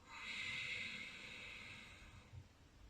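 A long, forceful yogic exhalation through the nose, a close, breathy hiss that swells and then slowly fades, with a faint snort near the end.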